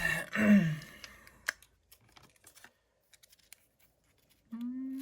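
Scissors give one crisp snip while a miniature toy sneaker kit is cut apart, followed by a few faint clicks, with brief vocal sounds at the start and end.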